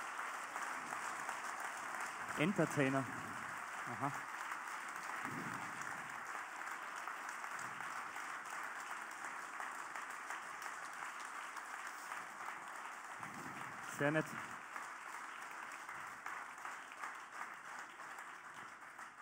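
Sustained audience applause fills a hall welcoming a football coach at a sports forum, steady and broad throughout, with a few brief spoken remarks from a man near the start and again midway.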